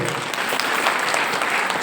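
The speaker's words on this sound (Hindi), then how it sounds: "एक जोरदार ताली होनी चाहिए" Steady, dense clapping from a seated audience at an indoor meeting, applauding a revered guru, fills the room evenly at full volume without a break.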